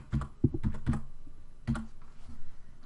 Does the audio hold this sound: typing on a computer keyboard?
yes